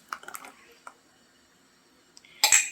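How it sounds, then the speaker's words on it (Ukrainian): A spoon clinks and scrapes in a bowl as raw tomato juice is stirred into starch for homemade ketchup, a few light taps early, then a louder burst of scraping at the end. "І розмішуємо ретельно, ретельненько розмішуємо"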